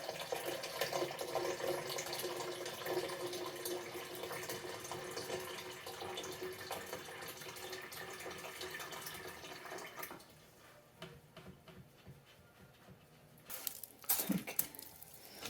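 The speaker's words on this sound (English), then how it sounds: "taking out some of the water so I can pour it in the top to give the roots some love" Water from a Kanana Hydro-Planter reservoir runs and splashes steadily for about ten seconds, then drops to a quiet lull before a few brief louder splashes and drips near the end.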